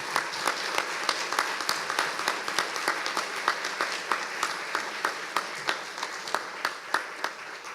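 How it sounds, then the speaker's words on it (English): An audience at an annual preservation awards ceremony applauds, with dense, steady clapping that runs throughout and slowly thins toward the end. "I think he deserves a round of applause"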